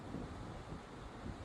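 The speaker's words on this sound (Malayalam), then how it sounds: "പക്ഷെ കാറ്റുണ്ട് കേട്ടോ" Light breeze blowing across an open survival campsite on a sunny day, a faint, steady hiss of air with no other clear sounds.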